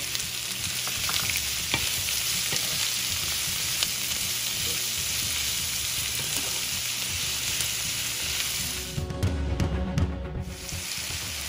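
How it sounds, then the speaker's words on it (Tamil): Shallots fry with salt in a hot pan, giving a strong, steady sizzle throughout, with a flurry of stirring and scraping near the end. "கொஞ்சம் உப்பு சேர்த்து வதக்கிக்கோங்க."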